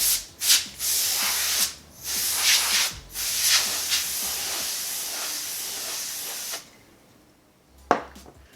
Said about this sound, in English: Give it one last hit with the compressed air.